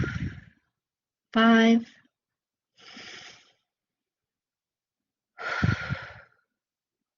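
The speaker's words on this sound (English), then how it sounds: "So today we're going to take 5 deep breaths." Slow, deep breaths during a guided mindfulness exercise: a couple of soft, airy inhales and exhales separated by quiet pauses, with a voice briefly counting aloud between them.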